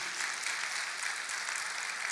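An audience claps together in a congregation during a religious service. The applause is dense and continuous, fairly quiet and somewhat distant, with no talking over it.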